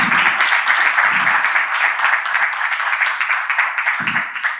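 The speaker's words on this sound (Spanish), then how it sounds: "Le podemos dar un aplauso, por favor, desde acá a don Omar" Seminar audience applauding prize winner Omar Catalán: a modest room of hands clapping, fairly close and steady, with a few low voice murmurs underneath and a brief louder burst near the end.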